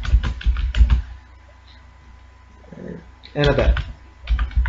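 Typing on a computer keyboard while writing C file-handling code, heard as bursts of clicky keystrokes between stretches of a man's speech, with a pause in the middle before a final flurry of keys.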